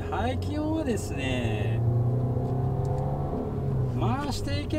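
Low-rev exhaust note from a 2013 Dodge Dart compact sedan, Fiat-based, heard from inside while driving; a quiet, steady low rumble sits under someone talking throughout.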